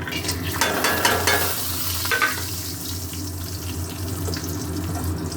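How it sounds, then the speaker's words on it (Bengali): Paneer cubes fry in a wok with cashews and garam masala added, bursts of crackling sizzle and stirring up front that settle into a softer steady hiss, no voices. "আমি এটায় পনির ভেজেছি কড়াইতে এবারে দিচ্ছি কাজু আর গরম মশলা"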